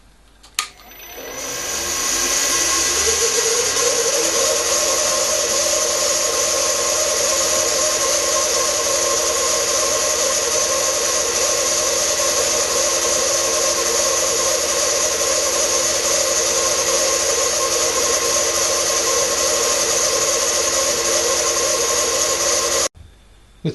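Milling machine on a rotated table making a cut, a loud steady high whine that spins up at the start, holds constant for about twenty seconds, then cuts off abruptly, with no talking.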